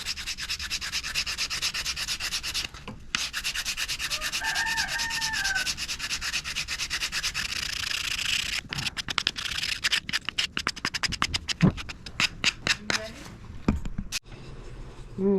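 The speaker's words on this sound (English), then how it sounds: "Sand it down a little bit smooth so it's extended and even." Hand sanding of an antique wooden chair rail during repair, a steady continuous rubbing rasp that later breaks into short quick scratchy strokes, close and fairly loud, with brief speech in between.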